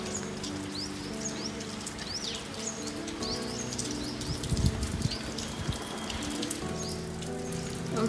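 Steady rain during Cyclone Nivar falls on a veranda and street, a soft continuous patter with scattered drips and birds chirping faintly in the distance.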